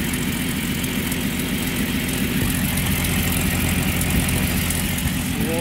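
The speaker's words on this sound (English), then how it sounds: "Motor's super quiet. It is the original motor" A 1951 Bentley Mark VI with its original engine idles close by, a steady, even low rumble with a faint exhaust leak possible, running continuously with no voices.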